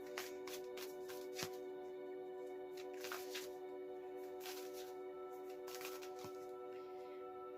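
Oracle cards being shuffled by hand, a quiet run of soft riffling flicks and taps in irregular bursts, close and faint against a hushed room, no voices.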